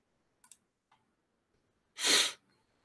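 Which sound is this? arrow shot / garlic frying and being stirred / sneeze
sneeze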